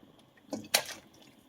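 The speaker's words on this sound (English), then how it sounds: "now that we've got our vegetables softened, we are going to add our salmon." Salmon pieces dropped into a pot of softened vegetables for a Finnish-style salmon soup, giving a brief wet plop and splash, two quick bursts close up, otherwise quiet.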